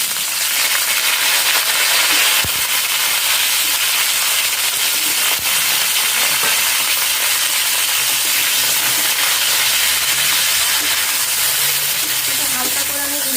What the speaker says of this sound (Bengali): তেল গরম হয়ে গেছে, এবার আমি ফুলকপিগুলোকে এর মধ্যে দিয়ে দিচ্ছি।